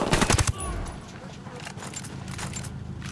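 Rapid gunshots burst loudly at the start of a firefight in Tom Clancy's Ghost Recon Wildlands, followed by quieter scattered shots and game ambience with voices underneath.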